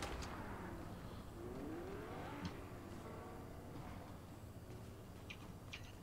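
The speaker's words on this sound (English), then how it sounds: "I hear a car." A car drives somewhere nearby in a battle royale video game, its engine a low steady drone with a rising revving sweep partway through, muffled and fairly quiet under background game noise.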